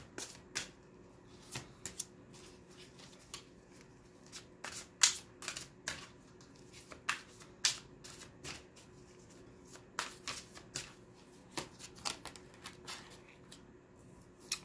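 Tarot and oracle cards are shuffled by hand in a quiet room, giving a run of quick, crisp riffling bursts and taps in an uneven rhythm, close and fairly soft, with no talking.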